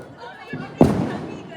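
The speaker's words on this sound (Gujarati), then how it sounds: "અહીંયા જલપાએ મસ્તનો મોટો ફટાકડો ફોડવાની શરૂઆત કરી છે" A big Diwali firecracker bursts with one sudden loud bang, followed by a short rumbling tail that trails off, with quiet background noise and faint voices around it.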